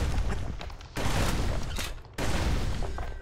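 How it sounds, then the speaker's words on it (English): Musket fire in Bastion comes as three heavy, sustained booming blasts, each starting abruptly and fading slightly, dense and loud, with no voices. "He's blasting everything in sight with that newfangled musket"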